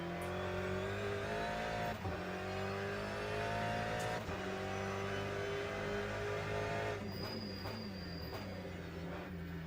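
LMGTE race car engine in the video game Le Mans Ultimate, Portimao circuit, droning steadily at high revs throughout with a few gear-shift blips and a brief rising whine near the end, loud and close.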